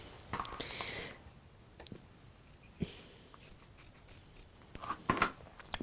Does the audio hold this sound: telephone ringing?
no